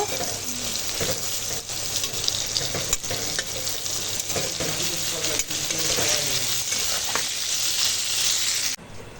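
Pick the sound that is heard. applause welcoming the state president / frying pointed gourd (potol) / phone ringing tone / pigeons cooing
frying pointed gourd (potol)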